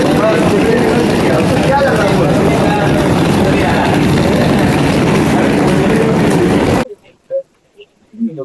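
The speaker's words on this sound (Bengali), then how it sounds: "দার্জিলিং হিমালয় রেলওয়ে" Darjeeling Himalayan Railway train on a mountain route in the Silk Route hills, a loud, steady rumble and clatter of the engine and wagons passing close by, then cutting off abruptly near the end, leaving faint scattered sounds.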